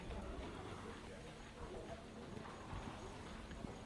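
A thoroughbred horse at a Kentucky bloodstock sale walks with steady clip-clop hoofbeats on a hard surface, partly masked by a busy background of voices and crowd noise.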